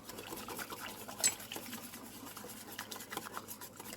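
A whisk scrapes and clicks through egg pudding mixture of whole egg and yolks in a pot over medium heat, making a soft, continuous rhythmic stirring with one sharper metallic tap partway through.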